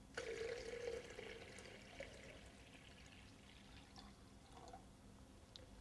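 One liter of water poured into a beaker, a faint steady splashing stream that is strongest in the first second and then settles into a quieter trickle with a few small drips.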